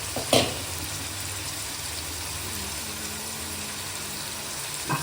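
Thinly sliced eggplant sautés in a pan with a steady, close sizzle, and a couple of brief stirring clatters near the start and end.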